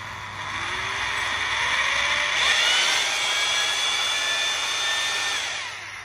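An 800W Japanese rotary hammer drill with speed control and reverse runs steadily on its own, a loud continuous motor whine that rises slightly in pitch midway and holds before easing off at the end.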